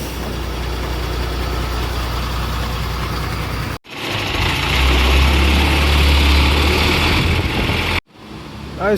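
A container truck's engine idles loudly and steadily nearby, a low constant rumble broken by two abrupt cuts.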